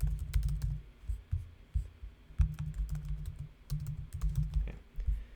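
Typing on a computer keyboard, with bursts of soft, close key clicks and pauses between runs, fairly quiet and with no talk over it.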